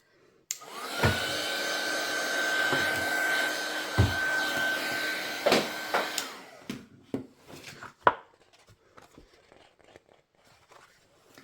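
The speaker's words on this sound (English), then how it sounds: "I'm just going to give it a blast of this heat tool, just because I'm impatient." A heat tool blows on embossing powder with a steady whirring blast of about six seconds, interrupted by a few knocks, then shuts off, leaving scattered handling taps and light rustling.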